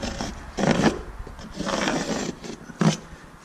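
A pencil or marker drawing a line across ceramic tile: a few close, rough scratchy strokes with short pauses in between, and nobody speaking.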